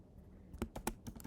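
Several separate keystrokes on a computer keyboard while a web address is typed into a browser, clicking near and moderately loud at an uneven pace, with quiet room noise in between.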